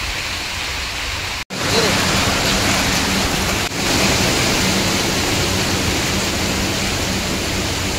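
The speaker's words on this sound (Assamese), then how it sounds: "চবৰে নেৰা নেপেৰা বৰষুণ এয়া ধৰি আছে" Steady, continuous rain pours down as a dense, unbroken hiss that stays loud and even throughout, with only a brief dropout near the start.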